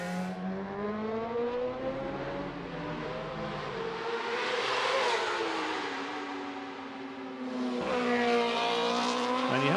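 A racing motorcycle engine screams at high revs during free practice at the Macau Motorcycle Grand Prix, its pitch sweeping down and then climbing again as it accelerates hard, loud and close.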